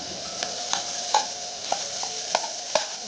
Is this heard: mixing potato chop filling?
yes